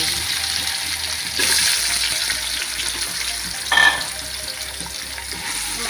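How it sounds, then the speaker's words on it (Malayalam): Grated coconut roasts in a pan with a steady, dry sizzle and a brief scrape of the spatula partway through. "അതിനകത്തോട്ട് നമ്മുടെ ഒന്ന് വറുത്തെടുക്കാം കുറച്ച് തേങ്ങാപ്പൊക്കെ"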